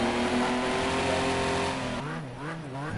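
Race car engines in Project Cars 2 during an SCL Indy Legends race, a loud sustained multi-car engine whine at high revs that drops in pitch then rises again as gears shift, no talk heard.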